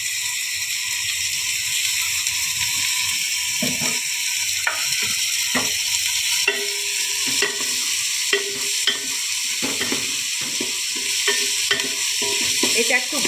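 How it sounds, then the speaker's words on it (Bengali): Vegetables with beans, chopped capsicum and green chilli stir-fry in a pan, giving a steady sizzle under repeated clattering spatula scrapes and stirs, close and clear with no talk. "এটা একটু ভালো করে ভেজে নিতে হবে।"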